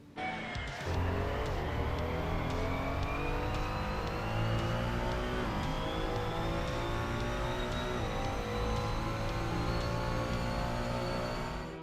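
Ferrari 296 GT3 race car engine in Assetto Corsa screams at high revs around Zolder, pitch climbing and dropping through gear changes, loud and continuous throughout.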